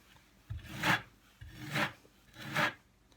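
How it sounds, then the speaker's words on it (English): A trowel scrapes tile adhesive down a wall in three slow, rasping strokes evenly spaced about a second apart, soft and close with nothing else heard. "you just get some out of there on your trowel, and you just put it on the wall. You scrape it straight down"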